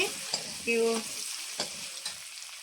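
A spoon scraping and stirring through fenugreek leaf egg curry in a pan, mixing in salt, with a gentle background sizzle and a few clinks against the pan.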